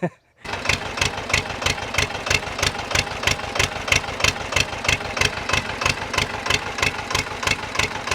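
An Escort tractor's diesel engine chugs steadily after starting, a loud rhythmic thump repeating evenly and close by.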